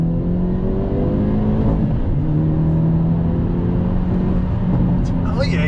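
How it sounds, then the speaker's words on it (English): A 2022 Hyundai Elantra N sport compact accelerating hard on throttle, heard from inside the cabin as a loud, steady engine drone with rising harmonics that holds throughout. "I'm gonna be quiet and accelerate."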